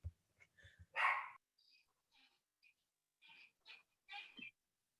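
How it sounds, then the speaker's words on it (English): A dog barks intermittently at a distance, a series of short sharp yelps, faint and thin through a home computer microphone during an online meeting. "while my dog is barking"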